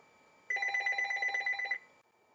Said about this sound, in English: Ring her off and bury the phone under a pillow, whatever.